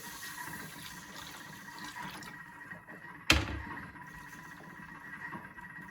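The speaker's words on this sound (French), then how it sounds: "j'ai mis donc 500 g de semoule moyenne que je vais venir complètement recouvrir d'eau" Water pours steadily over 500 g of medium semolina for couscous, a continuous close wash with one sharp splash partway through and no voices.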